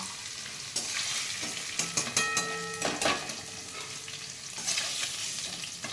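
Paneer pieces sizzle in hot oil in a pan while they are stirred, a steady frying hiss broken by scraping and clinking of the utensil.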